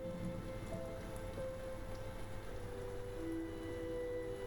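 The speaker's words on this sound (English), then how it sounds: "Starting to rain and James is feeling the pain." Steady rain falls in Silent Hill 2, a constant close hiss of drops pattering on surfaces over a low, droning background hum, with no voices.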